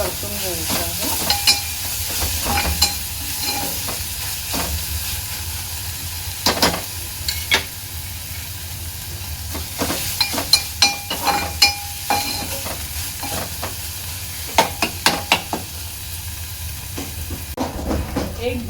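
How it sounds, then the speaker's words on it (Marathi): A paste of ginger, garlic, chilli, coconut and coriander sautés in onions over a low gas flame for prawn kheema. A constant sizzle runs underneath while a spoon scrapes and stirs in repeated strokes. "वाटण आहे ना चांगलं स्लो गॅसवर कांद्यामध्ये परतून घ्यायचं आहे।"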